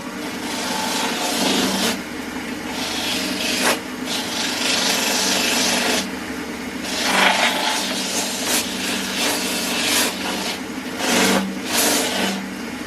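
Sanding a maple and cherry salad bowl on a lathe with 60-grit paper produces a steady, close, loud rasping rub with brief pauses and swells, with no talking.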